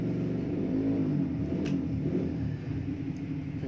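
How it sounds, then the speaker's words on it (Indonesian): Motorbike engines rumble steadily at a workshop, a continuous low revving drone from nearby with no talk over it. "belakang ada bengkel. Ada suara-suara motor."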